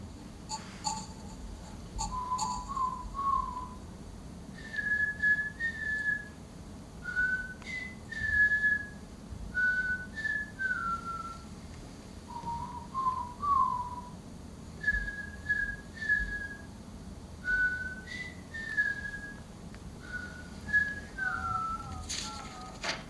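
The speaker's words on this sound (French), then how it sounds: "Je peux siffler Fratelli d'Italia." A person whistles the Italian national anthem, Fratelli d'Italia, in a clear melodic tune of short phrases with brief pauses, close and moderately loud over a low room hum.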